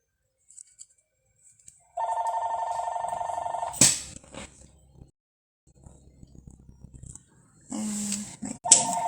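A telephone rings indoors with a steady electronic tone, sounding twice in bursts, with some handling noise and brief shuffling between rings.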